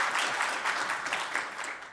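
An audience gives a short burst of clapping for a young Olympic boxer's mother. The applause is dense and moderately loud and fades slightly toward the end of two seconds.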